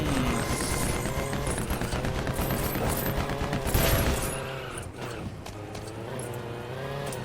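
Vehicle-mounted guns firing in Lego Batman 2 DC Super Heroes, rapid dense bursts of shots over engine noise and game effects, loud at first and easing off toward the end.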